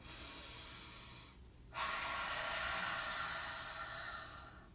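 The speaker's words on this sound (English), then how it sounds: "I want everybody to take a nice deep breath." One person takes a slow, deep breath during a guided morning ritual: a soft airy breath, a brief pause, then a longer, fuller rush of air, close and quiet.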